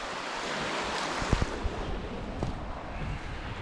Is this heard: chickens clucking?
no